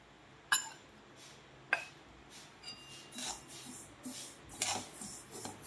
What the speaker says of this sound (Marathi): मी इथं कारळे भाजून घेणार आहे बघा